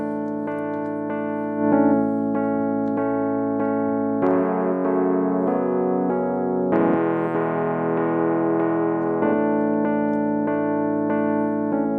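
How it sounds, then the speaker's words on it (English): Electric piano playing a sustained worship keys part, hard-panned right, with held chords changing every couple of seconds, steady and full throughout, no voices. "I had this electric piano panned all the way to the right."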